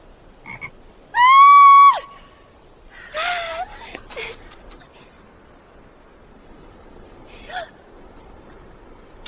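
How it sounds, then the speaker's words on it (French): Frog croaks, one loud and clear, followed by a few shorter, fainter croaking calls spaced apart against quiet background hiss. "Je ne peux pas toucher aux grenouilles, ça me dégoûte"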